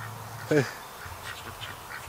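A Muscovy duck down by a creek gives a single short call, fairly close and brief, followed by quieter rustling and faint background sounds.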